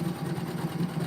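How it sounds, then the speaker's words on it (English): Straight sewing machine zigzag-stitching clothesline cord for a rope bowl, a steady close mechanical whir with a fast even hum throughout, no voices. "And I used my straight sewing machine with a zigzag stitch."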